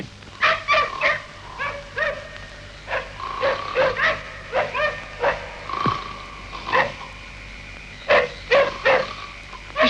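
Several dogs bark at night in a 1955 film scene, sharp yips and barks repeating in uneven bursts at moderate distance over a quiet background.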